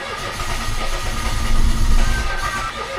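A car that cranks but won't start, its engine flooded with too much fuel, churns steadily up close and loud while the accelerator is held to the floor. The cranking builds midway and carries through with no catch.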